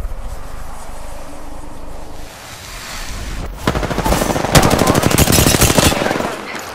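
Automatic gunfire in the Apex Legends video game: after a few quieter seconds, loud rapid bursts of shots rattle in a dense, steady rhythm close by for several seconds.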